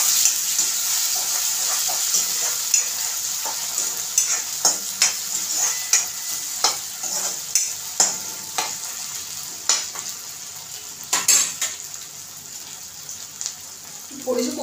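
A chopped ripe tomato is stirred into browned frying onions for black-eyed pea masala, with continuous sizzling and repeated spatula scrapes and knocks against the pan, close and fairly loud.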